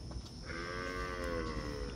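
A red Brahman cow on a farm in El Salvador gives one long, clear moo that rises in the middle of the clip and holds for over a second against faint background noise.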